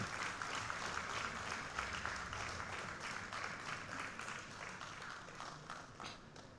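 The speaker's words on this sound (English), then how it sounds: "Please give a huge round of applause." Audience applause at a formal event as dignitaries from the Securities and Exchange Board of India are invited on stage, a steady wash of many hands clapping that stays fairly even throughout, slightly distant.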